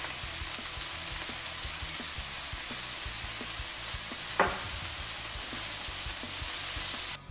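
Potato pieces frying in a pan with softened onion for a Spanish tortilla, a steady close sizzle throughout with a brief stir or scrape partway through.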